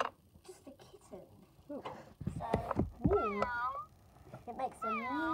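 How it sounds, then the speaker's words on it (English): A person voices a kitten's mew for a wooden toy kitten: a few high, wavering mews rise and fall over quiet background, mixed with spoken talk. "It makes a mew sound."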